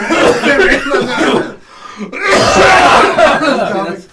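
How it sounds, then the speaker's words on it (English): Harsh bursts of coughing come in two close clusters separated by a brief pause, loud and near, mixed with a little chuckling. "I want to get all the coughing in."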